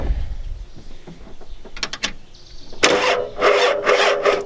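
The 7.3L IDI diesel in a 1993 Ford F-250 that won't start cranks on its starter: quiet mechanical scraping at first, then loud, close, rhythmic churning bursts as the engine turns over without firing.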